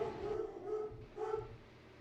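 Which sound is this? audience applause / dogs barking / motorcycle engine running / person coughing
dogs barking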